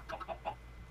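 Chickens in the Minecraft video game clucking quietly, a quick run of three or four soft, clipped clucks in under a second over a low background hum.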